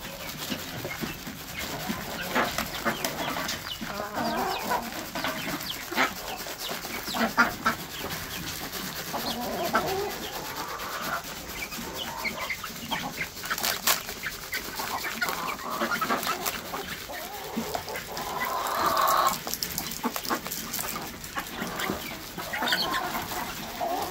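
Hungry chickens cluck and squawk continuously at a moderate distance during feeding, with scattered rustling and movement around them.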